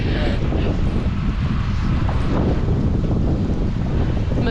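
Strong wind buffets the microphone on a road bike ride, a loud continuous rushing roar that never lets up for the whole stretch, with no clear talking.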